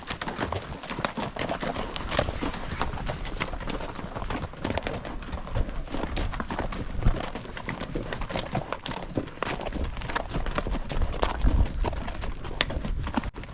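Saddled horses clip-clop steadily up a wilderness trail south of Yellowstone, hooves striking close by in a continuous, uneven rhythm.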